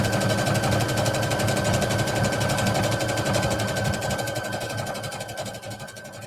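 A sewing machine runs in one continuous steady whir while understitching a seam on the pocket bag of a knit skater dress, close and loud, gradually slowing and fading toward the end.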